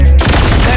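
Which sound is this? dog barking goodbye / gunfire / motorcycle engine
gunfire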